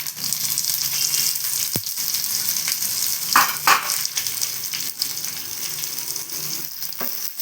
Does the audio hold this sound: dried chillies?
yes